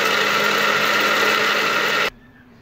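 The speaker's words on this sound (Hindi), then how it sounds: "अब हम जग में बारीक पीस लेंगे।" An electric grinder jar runs at full speed, finely grinding roasted spices into powder with a loud, dense, steady whirr, then stops abruptly, leaving a faint hum.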